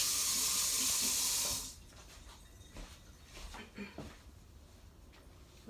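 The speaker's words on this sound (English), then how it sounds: "Let me wash my knife a little." A knife being washed under a running sink tap: a loud rush of water for about a second and a half, then the flow stops, leaving faint clinks and handling sounds.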